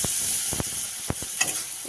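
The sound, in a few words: garlic paste being stirred and fried in a wok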